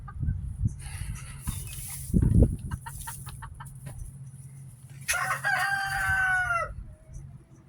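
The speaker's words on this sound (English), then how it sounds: "Bird." Chickens in a snowy yard clucking and crowing, with scattered close clucks building to a loud, drawn-out crow near the end over steady outdoor background noise.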